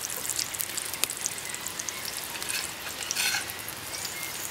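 Chive pockets fry in a hot flat pan, giving a steady, close sizzle with crackling oil spatters and a brief flare of hissing midway.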